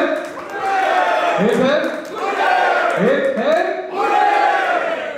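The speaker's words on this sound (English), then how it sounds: "have a huge round of applause for the team." A crowd at a corporate gig in a Mumbai hotel cheers and shouts for the band in loud swelling waves, voices whooping and calling over one another.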